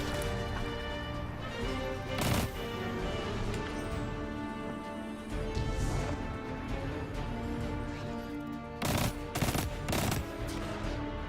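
Rapid automatic gunfire in the Destiny 2 video game, loud and sustained, with dense bursts and sharp shot transients and heavy cracks near the start and toward the end.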